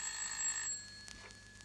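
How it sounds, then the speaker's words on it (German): An old telephone bell rings with a sustained metallic trill that cuts off partway through, a radio drama sound effect in a German-language play, heard alone without talk. "Herr Tiedemann ist am Telefon"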